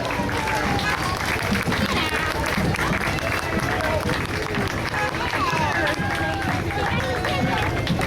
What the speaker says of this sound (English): And please give another applause, one of our Grand Marshals, one of our artists, Hillary Price.